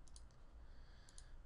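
A computer mouse clicked twice, pauses, then clicked twice more, small sharp clicks over a quiet room hiss.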